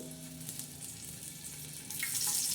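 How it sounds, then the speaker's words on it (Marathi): Oil heating in a cooking pot for tempering before making chicken pulao, a soft steady sizzle close by that grows louder and brighter toward the end, with no talking. "पातेलामध्ये प्रथम आपण तेल टाकणार आहे"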